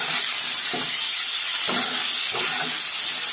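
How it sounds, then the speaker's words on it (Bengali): Chopped tomatoes frying in a pan with potatoes and carrots, giving a steady broadband hiss with a few soft stir-like bursts, close and fairly loud throughout. "এটা দিয়েও ভালোভাবে ভেজে নিতে হবে"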